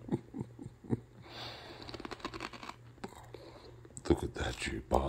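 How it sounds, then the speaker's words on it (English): Someone chews crunchy chips quietly, with soft irregular crunches and sniffs up close, a faint hum beneath and brief whispered talk toward the end. "When he hears the crunch when I chew on it"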